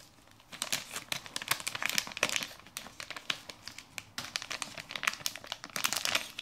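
Plastic packaging around a USB3 port expansion card crinkles and crackles in dense, irregular bursts, close and fairly loud, continuing steadily as it is handled and opened.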